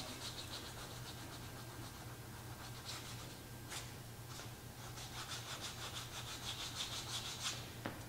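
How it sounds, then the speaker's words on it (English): Sandpaper lightly rubbing along the cut edges of leather for a can sleeve, a soft steady scratchy rasp repeating in short strokes throughout, close and fairly quiet with no talking. "I'm gonna take my sandpaper and just lightly go over these edges"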